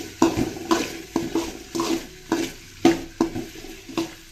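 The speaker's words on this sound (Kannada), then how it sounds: "ಒಂದು ಟೊಮೆಟೊ ಸೇರಿಸ್ತಾ ಇದ್ದೀನಿ ಇದಿಷ್ಟನ್ನು ಸ್ವಲ್ಪ ಚೆನ್ನಾಗಿ ಎಣ್ಣೆಯಲ್ಲಿ ಇವಾಗ ಫ್ರೈ ಮಾಡ್ಕೊಳ್ತೀನಿ" Cinnamon, cloves and tomato frying in oil in a pan, with a steady sizzle and about eight sharp stirring scrapes at a brisk, regular rhythm, close and clear with no talking.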